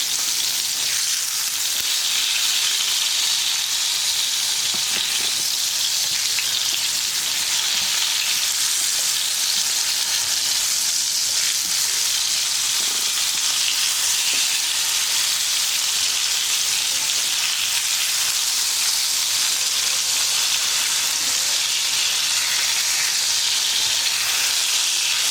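Tomatoes fry in hot oil for a tomato chutney, giving a continuous, loud, dense sizzle and crackle that lasts throughout without pause.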